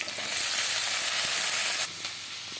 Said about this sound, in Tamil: இது கொஞ்சம் வதங்கினோடனே தக்காளியும் சேர்த்து அதில் வதக்கிடுவோம்.